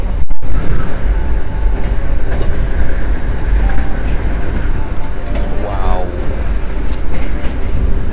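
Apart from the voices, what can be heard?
Gajahwong executive train running on rails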